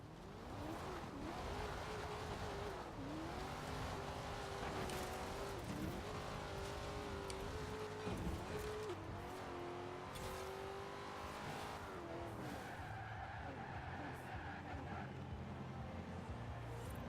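A classic muscle car in a racing game launches hard and accelerates, its engine note climbing through repeated gear changes with brief tire squeals, loud and continuous for the whole stretch.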